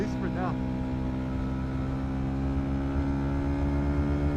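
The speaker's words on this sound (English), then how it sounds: "Man, I love the way this exhaust sounds." Motorcycle exhaust revving in race mode, a steady loud engine drone with strong low harmonics that holds throughout, close to the bike, with a brief voice-like trace at the start.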